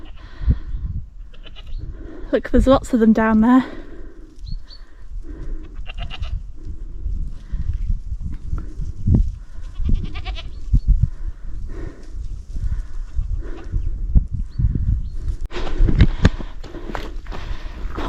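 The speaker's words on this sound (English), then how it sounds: "Oh goodness, I think they're wild goats." A herd of wild goats bleats across a forest gorge in Galloway, with several calls clustered early and scattered hoof clatter, heard from a distance under intermittent talk from a nearby hiker.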